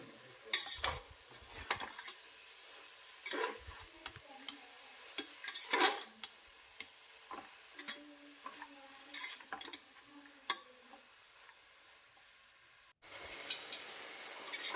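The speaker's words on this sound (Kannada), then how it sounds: "ಅದು ಈ ರೀತಿ ಎಣ್ಣೆಯಲ್ಲಿ ಸೊಪ್ಪನ್ನೆಲ್ಲ ಹುರ್ಕೋಬೇಕು" Mint and coriander leaves frying in oil in a pan for a pulao, with soft sizzling under repeated stirring clatters of a spoon against the pan, close and moderately loud.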